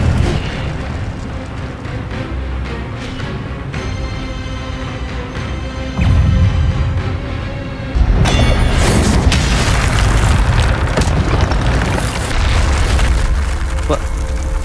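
A fiery Incendio spell blast erupts in the Hogwarts Legacy video game, a loud booming burst that swells into a sustained roaring rumble after a spoken incantation and other game sounds.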